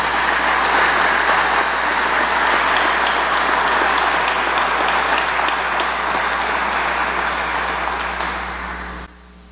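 Sustained loud applause from a Hall of Fame banquet audience honoring an inductee, dense steady clapping for about nine seconds before cutting off abruptly.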